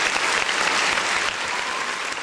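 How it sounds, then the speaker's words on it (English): A studio audience gives the guests, the Shape Shifters, a steady round of applause, with dense, even clapping sustained throughout at moderate volume. "I'm going to give y'all a round of applause just for that."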